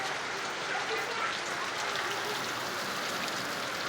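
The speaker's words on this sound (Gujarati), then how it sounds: "આવી ગયો છે વરસાદ." Heavy rain pours down in a village in Godhra taluka, a dense, steady hiss of drops on surfaces that holds constant throughout with no pauses.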